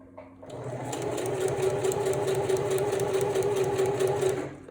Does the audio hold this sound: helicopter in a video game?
no